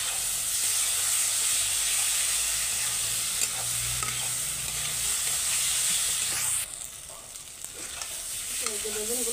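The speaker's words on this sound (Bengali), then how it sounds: "দিয়ে ভালো করে নেড়ে করে মিলিয়ে নিচ্ছি।" A spiced paste of ground masala and onion is stirred into eggplant frying in a pan, giving a steady close sizzle with scraping stirs throughout, dropping slightly quieter near the end.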